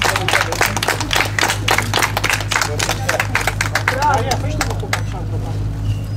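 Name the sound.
audience applauding at a motorcycle racing award ceremony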